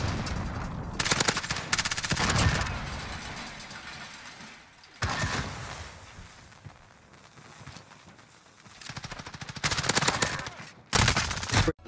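Machine gun spray fire in a Modern Warfare Search and Destroy match, several loud rapid bursts separated by quieter gaps with footsteps and game ambience.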